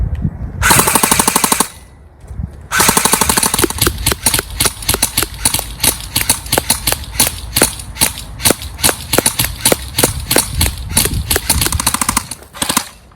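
A Cyma AK74u airsoft gun loaded with .3 gram BBs fires long, rapid full-auto bursts up close, the motor's fast rattling clatter broken by a short pause near the start and a brief stop near the end.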